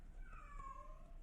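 A female cat in heat lets out a single long, plaintive meow that bends downward in pitch, heard alone against a quiet, low hum.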